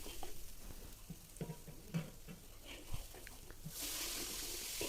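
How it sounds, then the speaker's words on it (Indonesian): Spice paste goes into leftover chicken-frying oil for chicken rendang, giving soft scattered sizzles and stirring clicks before a steady frying hiss swells in the last second, all quiet and close. "Ini Mas Bri pakai sisa minyak waktu kita goreng ayam tadi di awal. Kemudian masukkan bumbu halusnya."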